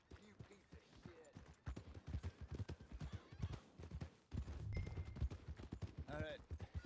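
Horse hooves clip-clop steadily at a walking pace in Red Dead Redemption 2, heard up close beneath a voice speaking and other game sounds.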